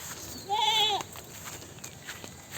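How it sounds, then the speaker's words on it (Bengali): A goat gives one loud, wavering bleat lasting about half a second, close by, set against a quiet outdoor background beside a pond where fish are being caught. "এ ছাগল চিল্লিস না"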